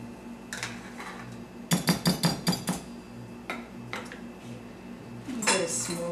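A spoon clinks repeatedly against dishes in a home kitchen while applesauce is measured out, a quick run of bright metallic taps followed by scattered knocks and a final clatter, with a little speech nearby.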